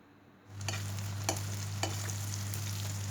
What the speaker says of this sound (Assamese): এতিয়া পিঁয়াজখিনি মই অলপমান চফ্ট হোৱালৈকে ভাজি থাকিম।